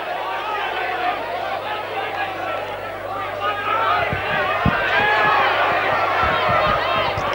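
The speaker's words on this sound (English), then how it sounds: "Certainly the crowd in full voice at the far side of the field." A crowd at a 1991 senior hurling semi-final roars and chatters steadily from the far side of the field, a dense continuous wall of voices with a few thumps near the end.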